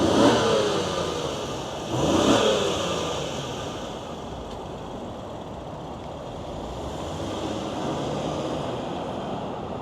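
The V6 of a 2026 Honda Passport Trailsport with a 10-speed automatic, fired up and blipped: a rev swell early on that settles into a steady, moderately loud idle hum, with no speech.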